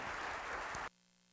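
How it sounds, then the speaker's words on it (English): An audience at a panel discussion on conscientious objectors applauds, a short wash of clapping that cuts off abruptly less than a second in, leaving quiet hum. "Let's give a round of applause to"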